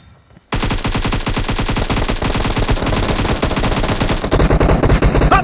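AKM rifle fired in long automatic bursts in PUBG Mobile, a rapid, evenly spaced string of loud, close shots starting abruptly after a short quiet and running to the end, with no talking.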